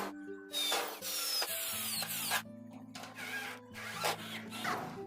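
A power drill bores holes in a tilting garage gate to mount a surface-mounted lock. Several loud, whining bursts are separated by short pauses, with no talk.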